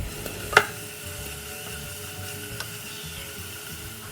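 Cinnamon, cloves, cumin, onion, ginger-garlic paste and green chilies sauté in a pan, giving a low, steady sizzle with a sharp clink of a utensil near the start and a softer one later.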